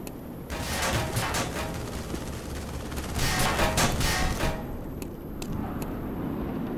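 Gunfire in the Black Mesa video game, a series of loud close bursts and rapid shots over about seven seconds, with a few sharp isolated cracks near the end.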